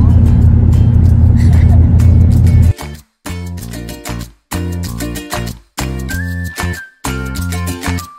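A car being driven along a mountain road gives a steady, heavy low drone from inside the cabin for a few seconds before loud music with choppy pauses takes over.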